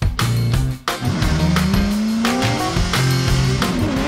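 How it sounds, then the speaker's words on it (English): Drift cars, including an Evo Auto Works Nissan 370Z that spins out, screeching their tires over loud revving engines, with a brief dip in the noise and then sustained squealing and rising engine pitch, close and loud. "Evo Auto Works Nissan 370Z does spin out, and Matt Field continues on"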